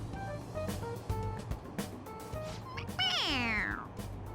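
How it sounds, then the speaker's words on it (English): Squeaky toy cat in Persona 5 Royal lets out a single drawn-out electronic meow when its head is pressed, loud and close, following brief game sounds and voices. "It meows when you press on its head."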